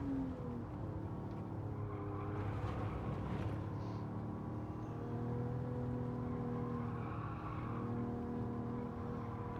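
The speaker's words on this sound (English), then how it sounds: "Old squealy tyres on this bad boy" Toyota Alphard Executive van in Gran Turismo 7 at Autopolis, its engine droning steadily throughout with tyres squealing in drawn-out tonal streaks as it corners, no talking.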